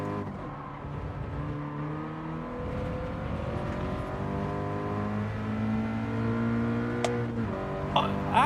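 Race car engine in Gran Turismo 7 during a practice session, a sustained droning whine rising and falling through gear changes as it laps, steady and close, with a couple of sharp clicks near the end.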